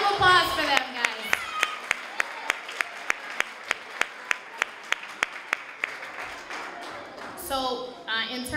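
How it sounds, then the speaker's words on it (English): Audience applause for high school kids at a Cape Verdean Association family event for Martin Luther King Jr. Day, with loud clapping and crowd noise plus a string of sharp, regular claps standing out through the middle, and voices around the edges. "So round of applause for them"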